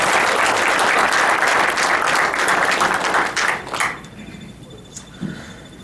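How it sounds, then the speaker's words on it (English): Loud, sustained crowd applause at a boxing press conference, welcoming a champion boxer. It stays dense for several seconds, then tapers off into a few scattered claps and a quiet room. "Go get a champion clap."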